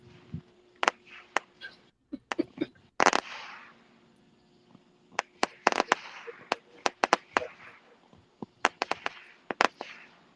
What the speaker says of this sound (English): I said, check out the fireworks, Lyle